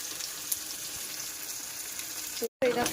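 A spice mix goes into fried onion and tomato for a meat curry, and it crackles in a steady close-up frying sizzle with light stirring, broken by a brief silent gap near the end.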